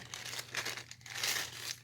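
A small plastic bag holding bicycle chainring bolts and a preload cap crinkles in close handling, with quick irregular rustles and crackles that rise and fall, and no voices.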